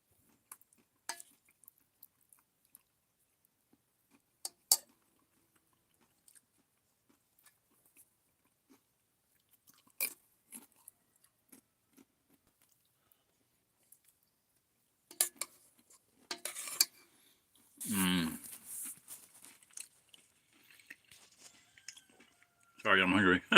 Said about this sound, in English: So I got blue corn chips for crunchy, and the nuts I can chew them better.